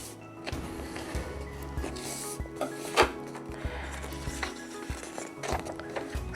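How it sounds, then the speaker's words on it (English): A bone folder is pressed and rubbed along a folded handmade watercolour card to flatten its top edge, making soft scraping and creasing strokes with a few taps. The strokes are close and quiet, with no speech. "I'll use my bone folder to just flatten out that top as well"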